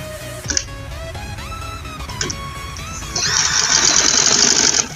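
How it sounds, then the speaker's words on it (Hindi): A sewing machine stitches across folded fabric for a sleeve and trouser design, a close, loud run of ticking needle strikes that grows into a dense, continuous whir near the end. "इस तरह इसके ऊपर सिलाई कर देनी है आपने"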